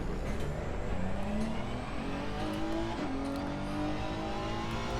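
Race car on a hot lap at Laguna Seca in a Honda versus BMW comparison, the engine revving and climbing steadily through the gears, loud and close, with no talk.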